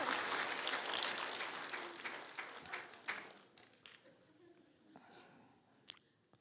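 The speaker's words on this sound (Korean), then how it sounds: "박수 보냅시다" Congregation at a church revival service applauds; the clapping is dense and moderately loud at first, then thins out and fades over several seconds, with scattered late claps and a faint voice underneath.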